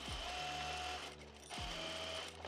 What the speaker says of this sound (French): On pique le côté droit à 1 cm